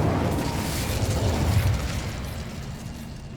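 An Incendio fire spell in Hogwarts Legacy erupts as a whooshing, roaring burst of flame with a low rumble that swells and then slowly fades, heard alone.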